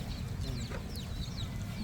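Chickens on a rural Filipino farm clucking in short scattered calls over a steady low rumble of background noise, fairly faint and without speech.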